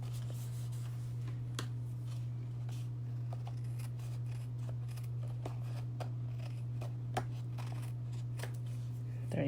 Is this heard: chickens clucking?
no